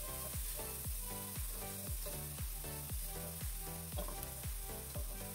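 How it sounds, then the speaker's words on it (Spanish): Onion and peppers sizzle steadily in a pan while being stirred, a constant hiss sitting under loud rhythmic background music. "Dejo aquí como 2 o 3 segunditos moviéndolo un poco hasta que la cebolla y los pimientos se amortigüen un poco."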